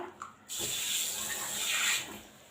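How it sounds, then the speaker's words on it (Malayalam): Water pours steadily into a pot of dal curry, a close rushing splash that starts abruptly, holds for about a second and a half, then tapers off. "പരിപ്പിൻ്റെ പാത്രം കഴിയാം വെള്ളം കൂടെ ഒഴിക്കാം"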